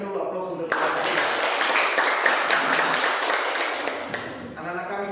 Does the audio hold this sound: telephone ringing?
no